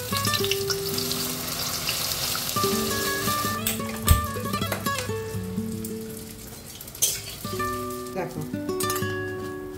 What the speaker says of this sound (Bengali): এইভাবে আমি সবগুলো ভেজে নেব এবং খুব তাড়াতাড়ি ভাজবো